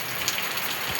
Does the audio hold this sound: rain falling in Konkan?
yes